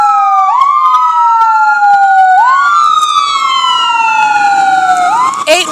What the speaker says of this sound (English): They stop sounding the sirens after they drive by me.